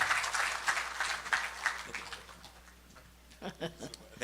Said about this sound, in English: give him a really strong round of applause as we welcome Professor Selwyn Cudjoe